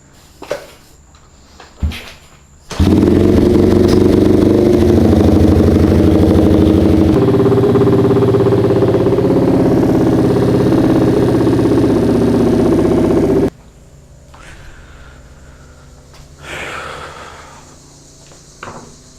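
CRF motorcycle engine fires up after short clanks and starting attempts, running loud and uneven for about ten seconds with a rough, wavering idle before cutting out to quiet handling noises.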